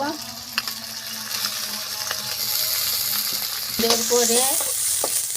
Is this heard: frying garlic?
yes